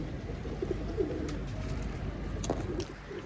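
A female pigeon coos softly in a few brief, low calls over a constant background rumble, close but faint.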